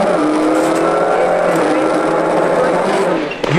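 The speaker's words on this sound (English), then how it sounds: "Inside Eugene Donnelly's car, we ascend Ireland's most famous stage." Eugene Donnelly's rally car climbs a famous Irish stage at the 2004 Rally of the Lakes, heard from onboard as the engine revs hard and steadily with gear changes and tire noise, with a brief drop near the end.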